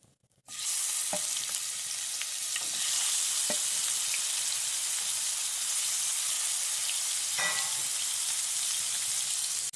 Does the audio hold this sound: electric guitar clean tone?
no